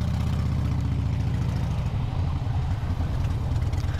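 Big Harley-Davidson motorcycle V-twin engine rumbling steadily while riding on a cold day, a loud, continuous low throb with wind noise, no talk.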